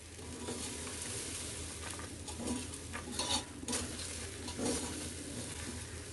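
Chana dal, rice and salt being stirred in a pressure cooker make soft scraping and clinking under a continuous oily sizzle, with a few louder stir strokes and no talk.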